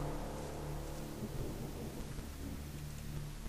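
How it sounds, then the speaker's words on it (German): Low rolling thunder rumbles beneath a steady hiss of rain in the video game Gothic, fairly quiet and continuous, with no voices. "Es fängt an zu regnen."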